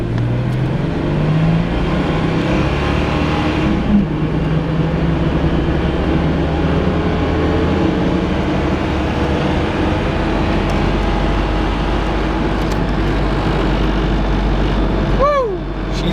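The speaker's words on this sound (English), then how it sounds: "Those are just the big tires making all that noise." A 2004 Jeep Grand Cherokee with an inline six accelerates from a standstill toward 60 mph, its big thick-tread tires roaring in a steady, loud broadband rush with the engine note rising underneath throughout.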